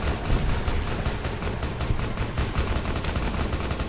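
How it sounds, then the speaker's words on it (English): Sustained rapid gunfire fills a battle at Hoover Dam in Fallout: New Vegas, with dense overlapping shots and bursts like a firefight, loud and continuous throughout. "What are we shooting at over there?"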